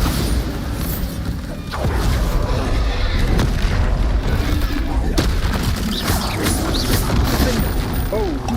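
Bombarda spell blasts in the Hogwarts Legacy video game, booming hits and clattering debris amid continuous loud combat noise, with a voice speaking over the fray.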